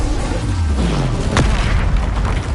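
A fire spell blast in the video game Hogwarts Legacy: a deep booming burst with a falling low rumble, then a sharp crack midway, set against a steady loud wash of game noise.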